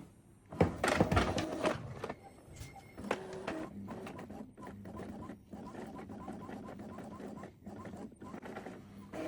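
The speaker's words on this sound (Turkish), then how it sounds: "Nozzle check basacağım bir tane." An Epson L3251 inkjet printer runs a nozzle check print, opening with loud mechanical whirring and clunks, then settling into a steady rhythmic series of print-head passes and paper-feed clicks.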